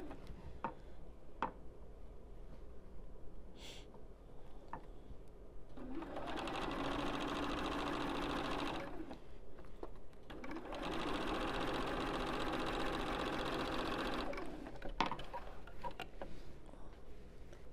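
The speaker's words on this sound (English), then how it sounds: "sew this last seam to connect the two pieces" A sewing machine sews the last seam joining two quilt pieces. It runs in two steady bursts of several seconds each, separated by a short pause. Faint ticks and handling sounds come before it, and the whole sequence sounds fairly quiet.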